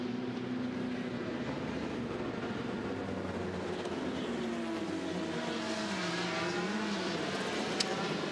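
Endurance race cars at Le Mans pull out of the pit garage nose to tail, engines droning and shifting in pitch over a continuous mechanical roar, with a brief sharp click near the end.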